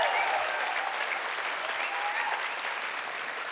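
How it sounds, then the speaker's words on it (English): An audience claps steadily for a performer at a company event, a dense, even wash of applause that holds for a few seconds and fades slightly toward the end. "Maybe another round of applause for her."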